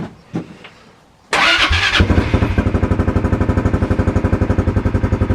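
After a couple of quiet clicks, a vehicle engine cranks and catches loudly up close, then settles into a fast, even, pulsing idle.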